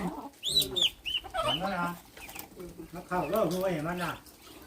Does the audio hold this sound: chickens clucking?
yes